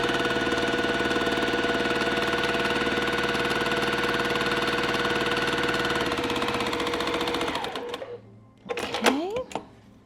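A sewing machine runs steadily, stitching a quarter inch along diagonal seams of half-square triangle quilt pieces, a continuous mechanical whir for about eight seconds that stops abruptly, followed by brief faint handling sounds.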